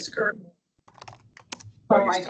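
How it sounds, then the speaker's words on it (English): Keys clatter on a computer keyboard in a meeting room, a short burst of light, irregular clicks between voices talking before and after. "typing"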